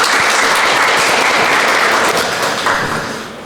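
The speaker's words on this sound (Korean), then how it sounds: "박수로 환영하겠습니다." A church congregation at a Sunday worship service claps in welcome, dense sustained applause that tapers off in the last second.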